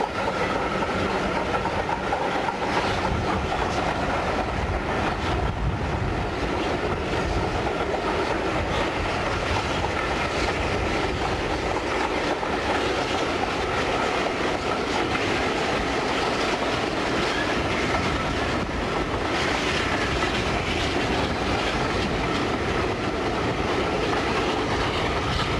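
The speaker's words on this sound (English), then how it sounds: "Visiting Loco 257 Squadron drifts through some recently relaid track work before accelerating away to the summit." Visiting steam locomotive 257 Squadron rolls over recently relaid track on a moorland line, wheels clattering and rumbling in a steady, continuous wash of rail noise as it drifts along and picks up speed, no voices.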